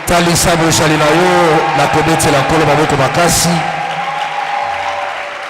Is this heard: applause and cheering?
yes